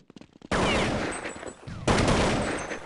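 Rapid gunfire from a Counter-Strike match on de_mirage, a professional Na`Vi versus Lions bout at DreamHack 2011. Two loud bursts of dense shots, the second starting after a short lull, with faint commentary underneath.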